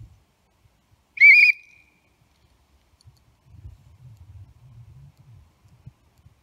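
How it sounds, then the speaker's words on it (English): One sharp, shrill whistle blast rings out briefly in a forest, followed by silence and then faint low rustling and knocking nearby. "So we're going to try a little whistle sound,"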